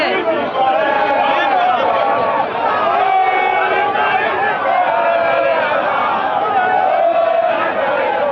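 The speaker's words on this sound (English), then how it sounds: "You can see them, the crowd is mad here." Angry protesting residents of a floating slum settlement in Nigeria, a dense crowd shouting and chanting together at close range, loud and continuous throughout with overlapping voices.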